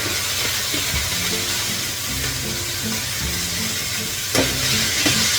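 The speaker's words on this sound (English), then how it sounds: "I will fry for some minutes, 1 or 2 minutes, then I will cover it and let it get cooked." Vegetables sizzle and fry steadily in a pan for black rice pulao while being stirred, a close, continuous crackling hiss with occasional scraping knocks and no talk.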